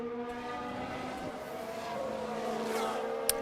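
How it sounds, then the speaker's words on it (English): Formula 1 race car engines from a live broadcast of the Brazil Grand Prix sprint shootout: a steady, droning whine of several engines holding sustained tones throughout, with a brief sharp click near the end and no talk. "we got car sounds here"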